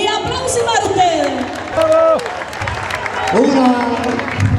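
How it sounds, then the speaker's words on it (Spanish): A crowd at a Cuban son music party in Cagliari claps and cheers loudly, with voices and whoops rising over the applause throughout. "¡Y aplausos para ustedes!"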